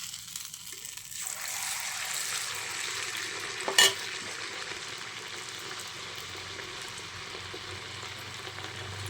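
Ghee pathiri frying in hot ghee in a pan, a steady close hiss of sizzling with one short sharp clatter partway through, no talk.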